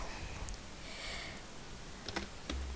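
Someone types a world name on a computer keyboard in quick, close clicks. The keystrokes are quiet and come in short bursts over a faint background hiss.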